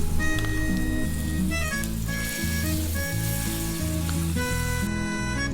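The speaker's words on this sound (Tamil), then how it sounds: "இப்போ பன்னீர் எடுத்து நம்ம தவாவில் ஃப்ரை பண்ணிடலாம்." Marinated paneer cubes frying in a little oil on a hot tawa give a steady, close sizzle with faint stirring scrapes. Music plays throughout, and no one speaks.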